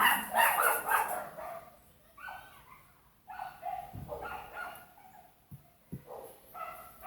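A small dachshund barks and yelps in sharp, high-pitched bursts, loud and close, with excited whining between the barks.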